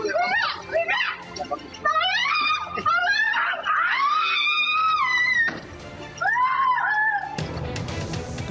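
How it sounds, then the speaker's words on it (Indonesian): Surveillance camera audio of a woman screaming for help as a man takes her away in a car: repeated loud, rising shrieks and wails in bursts, broken by short gaps, ending in a harsh noisy clatter. "Kamera pengawas merekam seorang wanita berteriak minta tolong saat dibawa lari seorang pria mengendarai mobil"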